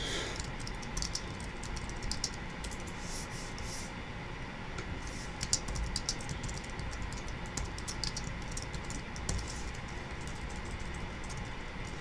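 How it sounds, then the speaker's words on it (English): Soft, quick clicking of computer keys in irregular bursts over a quiet background hum. "Oh, my typing is terrible today."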